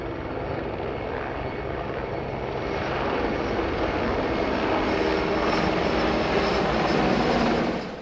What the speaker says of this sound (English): Here an Mi-26 leads a formation of Mi-17 tactical transport helicopters,